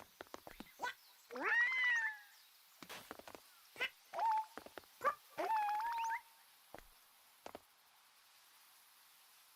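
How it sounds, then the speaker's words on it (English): Yoshi in Super Mario Odyssey lets out a string of high, whiny, dog-like whimpers and squeaks, several short cries clustered between quieter gaps, small and faint against near silence. "Why do you sound like a whimpering dog all the time, Yoshi?"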